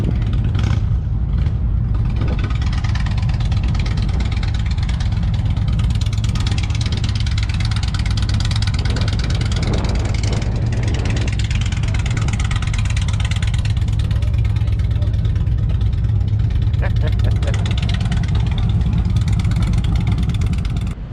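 A custom motorcycle with a 427 V8 engine runs at Daytona Bike Week, a steady deep rumbling idle with occasional light revs, loud and continuous amid outdoor crowd noise.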